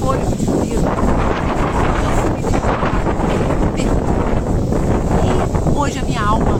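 Strong wind blows steadily outdoors, buffeting the microphone with a constant loud roar throughout.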